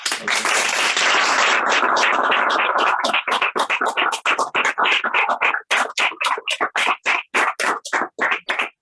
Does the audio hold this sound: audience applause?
yes